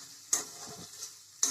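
Chopped onions fry in oil for an egg curry, a soft sizzle broken by two sharp stirring scrapes, one near the start and one at the end, heard close by.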